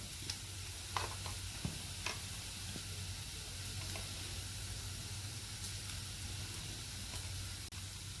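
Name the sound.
onion and tomato masala frying in pan with spices added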